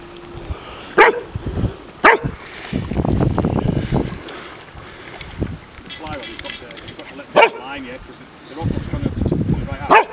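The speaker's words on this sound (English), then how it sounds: "Hang on, dog." A dog lets out several loud, separate barks at a waterside fishing spot, between stretches of wind and people talking.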